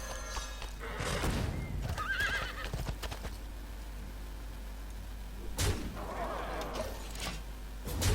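Horses neigh and whinny with clip-clopping hooves as Hearthstone game effects, two loud bursts separated by a quieter stretch of background tone.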